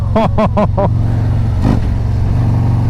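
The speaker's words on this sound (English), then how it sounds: "And look at that throttle response. Watch my hand." A stage 1 2024 Harley-Davidson Road Glide SE motorcycle engine revs sharply four times in quick succession, close and loud, then settles back to a steady idle.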